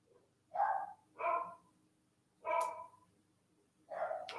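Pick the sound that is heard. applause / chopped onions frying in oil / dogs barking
dogs barking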